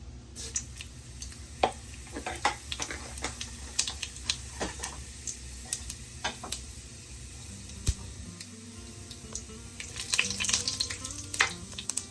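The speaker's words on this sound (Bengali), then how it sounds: "এখন দিচ্ছে 1 চামচ গোটা জিরা ফোড়ন" Whole cumin seeds sizzle in hot oil, a dense crackle of rapid tiny pops and spits over a steady hiss, close and moderately loud.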